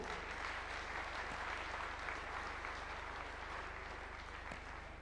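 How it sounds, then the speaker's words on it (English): Steady, dense crowd applause at the Kenyatta International Convention Centre in Nairobi during the Second Africa Urban Forum report handover, many hands clapping continuously at moderate distance. "A round of applause for the report."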